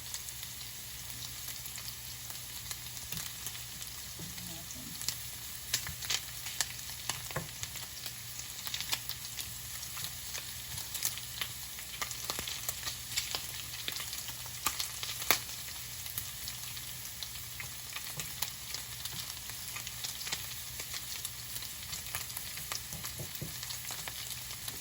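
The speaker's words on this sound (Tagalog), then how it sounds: "At the same time, naluluto rin yung pork." Pork frying and being stirred in a pan for Bicol Express, a steady close sizzle with scattered crackles and occasional scrapes throughout, no talking.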